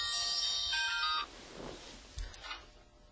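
A phone ringtone plays as a bright electronic melody for about a second, then cuts off, leaving faint room noise and a soft knock.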